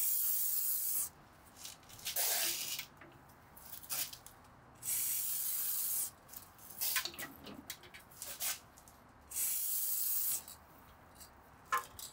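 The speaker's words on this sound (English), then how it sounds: "Dry lube is applied here instead of oil or grease." Dry lube hisses from an aerosol can onto a machine thread of a Hammer C3 31 Comfort combination machine, sprayed in four separate bursts of about a second each, with quieter rubbing and handling noises between them.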